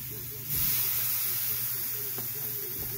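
Hot links cook on the grate of an offset smoker with a tuning plate, producing a close, steady sizzle and hiss. It swells sharply about half a second in, and a low rumble runs underneath.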